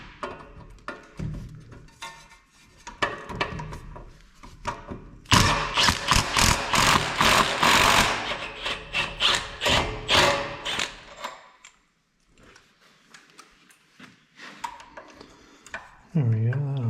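A 6mm Allen key loosens the brake pedal bolt on a Yamaha YFZ450R, giving close ratcheting clicks, metallic taps and a dense burst of scraping turns, then quieter clicks before a brief voice at the end.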